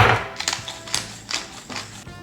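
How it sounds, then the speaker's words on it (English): Shredded chicken is stirred with Greek yogurt, garlic, salt and pepper into a chicken salad, giving a handful of close, moist squeaks and taps spaced about half a second apart. "You can hear the squeaky chicken."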